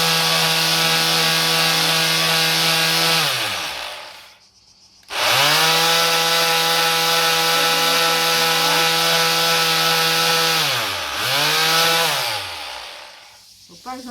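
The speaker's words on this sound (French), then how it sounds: "Je ponce le tableau." A power sander works over a painted panel being prepared for a museum exhibition, a loud steady whine that winds down to a pause, starts again and sags briefly near the end.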